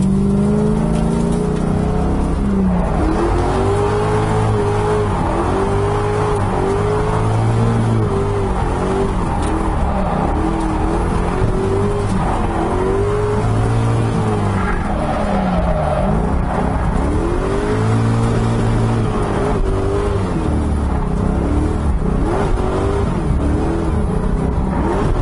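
An LS-swapped Mazda Miata revs hard and slides through a drift under the handbrake. The V8 drone rises and falls steadily for the whole stretch, loud and close, as the tires squeal and smoke.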